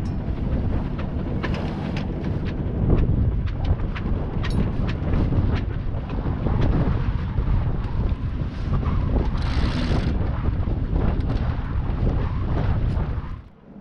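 Steady roar of wind buffeting a microphone on a sailboat in about 24-knot wind, loud and continuous throughout, with gusty low rumbling and occasional crackles; no one speaks.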